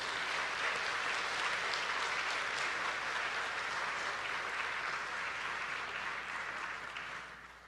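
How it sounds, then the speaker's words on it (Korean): A church congregation at a Korean afternoon worship service applauds steadily to welcome a missionary, a dense, even wash of clapping from many hands that holds for several seconds and then tapers off. "우리 선교사님 나오실 때 큰 박수로 환영해 주시기 바랍니다."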